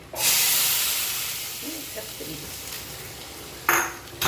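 Hot panch phoron tempering with dried chillies poured into shukto, a loud burst of hissing sizzle that slowly fades, then a sharp renewed hiss near the end, with light clinks of utensils.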